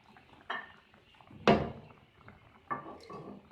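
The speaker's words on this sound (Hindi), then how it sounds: "अब इसको किसी बर्तन में निकाल लेते हैं।" Cauliflower kheer is moved from the cooking pot into a serving dish, giving three separate metallic clanks and scrapes of utensil on cookware, close by in a quiet kitchen.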